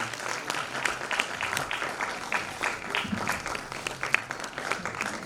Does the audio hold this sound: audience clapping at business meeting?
yes